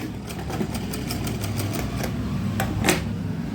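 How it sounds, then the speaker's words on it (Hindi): Sewing machine stitching the shoulder seams of a cotton baby suit, a continuous close mechanical whir with rapid regular needle ticks running throughout, steady and fairly loud. "ठीक इसी तरीके से हमने दूसरे भी कंधे की सिलाई करनी है"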